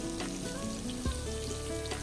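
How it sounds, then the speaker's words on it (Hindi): Rasam bubbles in a pot on a gas stove with a soft continuous sizzle and faint popping, steady and close, with no one talking. "ये देख रहे हैं आप, बहुत अच्छी तरह से उबल रहा है"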